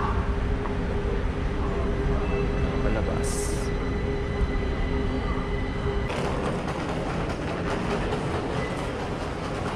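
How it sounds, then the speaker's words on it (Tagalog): A metro train runs through a Kaohsiung MRT station with a steady rumble of rolling wheels and rail noise, then rattling clatter builds in the second half, and a person speaks briefly over it. "Kaohsiung MRT station."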